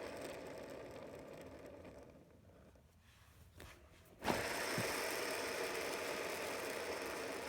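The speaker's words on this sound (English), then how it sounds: "So my wheels, they'll spin for a while." Longboard wheels fitted with Red's bearings spin freely, a faint steady whirring hum that dips quietly before a sharp knock and a return to a continuous low rolling drone.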